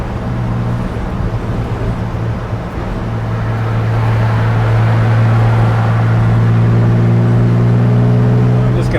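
A 1953 Dodge pickup truck with a changed rear end ratio cruises down a road, its engine droning low and steady close by, with road noise building and holding near the end.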